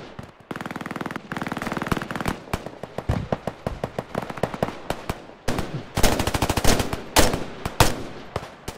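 Heavy gunfire in the Roblox Fireteam video game: long rattling automatic bursts mixed with single cracking shots, loud and continuous across the whole stretch, with no talking.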